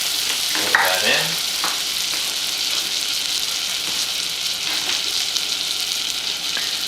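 Steel cut oats sizzling in melted butter in a hot pot, a loud, steady frying hiss throughout with a few faint scraping stirs, no talking.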